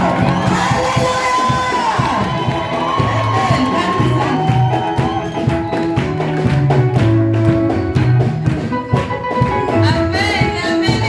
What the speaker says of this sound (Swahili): Makofi mazuri na shangwe kwa Yesu.